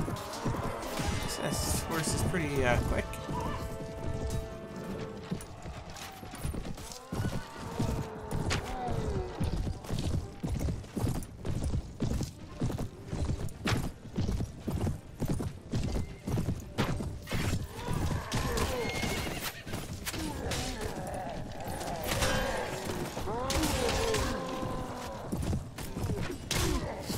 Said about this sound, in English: This horse is pretty quick.